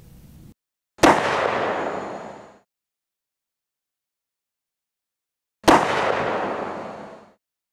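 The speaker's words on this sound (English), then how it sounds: "We're going to shoot two rounds of the Liberty 60 grain round, estimated speed 2400 feet per second." Two gunshots from Liberty 60 grain rounds are fired at a ballistic vest, each a loud, sharp crack trailing into a roughly one-and-a-half-second echo, about four and a half seconds apart with silence between, no talk.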